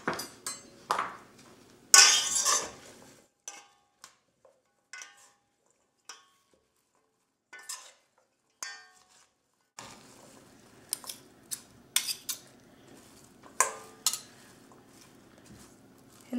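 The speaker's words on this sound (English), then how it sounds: "you can toss this again now that you've got your dressing in there" Chickpea parsley salad with dressing being tossed in a bowl, sparse clinks and light scraping of utensils against dish in short separated bursts with quiet gaps between.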